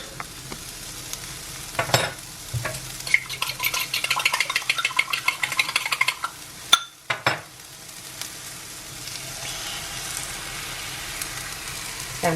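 An egg fries in a pan at breakfast, crackling and sizzling steadily at close range, with a few clinks of a utensil against the pan partway through.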